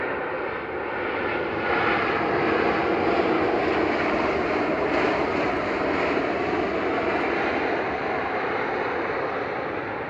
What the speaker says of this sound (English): Touching down now is Swiss from Zurich. This is HBJCM and A220-300 with flight 380.